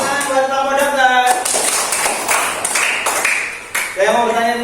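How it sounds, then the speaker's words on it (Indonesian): Classroom applause for a group of pupils playing doctors, with rhythmic clapping mixed into chanting young voices that keep singing and talking over the claps throughout. "Tepuk tangan buat kelompok dokter."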